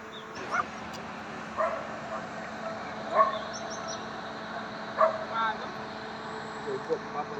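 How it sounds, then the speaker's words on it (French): Several dogs bark sporadically in the distance at dawn at a closed border crossing with Venezuela, short scattered yips and woofs over a steady low ambient hum, with faint talk in the background. "Seuls quelques chiens aboient."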